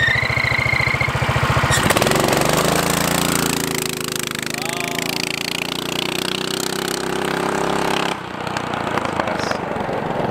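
A 420cc yard kart engine runs loud and close, first chugging, then revving up and holding a steady high drone before dropping off sharply, with no talk over it.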